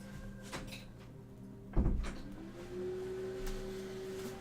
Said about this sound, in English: Need to adjust the door that the cat has opened.